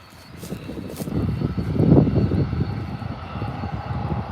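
Airliner engines at Adelaide Airport, including a departing Qantas 737, swell into a broad rumbling roar that peaks near the middle and then fades slightly, heard at a distance with no talk.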